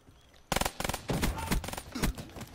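RK5 pistol gunfire in a video game: after a brief quiet start, loud, close shots crack out in rapid bursts, then continue in quick uneven volleys.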